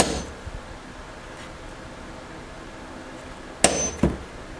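Two sharp metallic taps near the end, like a small hammer striking, after several seconds of quiet room tone.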